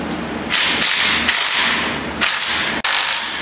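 Close, loud bursts of an impact wrench rattle on a 14 mm drive shaft bolt of a Honda Pilot, several short hammering buzzes in quick succession with brief gaps.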